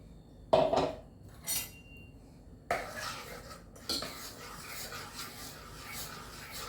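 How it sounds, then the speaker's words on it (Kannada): Jackfruit dosa batter being stirred with water in a mixer jar: close, intermittent scraping and clinking of a utensil against the container, in a few separate bursts with quiet gaps between. "ಒಳ್ಳೆಯಾಗಿ ಮಿಕ್ಸ್ ಮಾಡಬೇಕು ಇದನ್ನು,"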